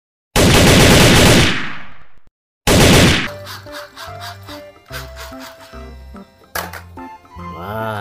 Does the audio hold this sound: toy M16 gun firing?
yes